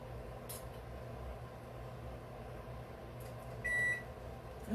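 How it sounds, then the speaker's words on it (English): Kitchen appliance timer beeps briefly near the end, a short series of high electronic tones over a steady humming background, with no talking. "Oh, we're beeping already."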